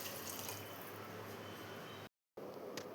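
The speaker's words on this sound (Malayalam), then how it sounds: "ഞാനിതിലോട്ട് 1 കപ്പ് വെള്ളമാണ് ഒഴിച്ചു കൊടുക്കുന്നത്." A cup of water is poured into a pressure cooker holding soya chunks and potato, a close, steady splashing gush that breaks off briefly in silence before resuming.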